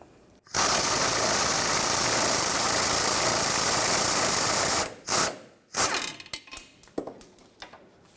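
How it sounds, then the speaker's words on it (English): A ratchet fitted with an 18mm socket loosens a nut on a 2005-2010 Chevrolet Cobalt during clutch slave cylinder work, a steady dense buzz of clicking followed by a few separate clanks and handling sounds. "Use a 18mm wrench on the back side to prevent the stud from spinning and an 18mm socket. Take the nut off."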